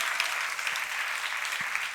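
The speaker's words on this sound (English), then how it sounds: "Applause also to you." Audience applause at the closing session of an internet forum in Stockholm, a steady dense wash of many hands clapping continuously at moderate distance, fairly quiet and unbroken throughout.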